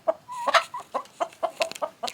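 A gray hen with an orangey head clucks in a farmyard coop: a string of short, close, moderately loud clucks with a few drawn-out notes, heard alone with no talking.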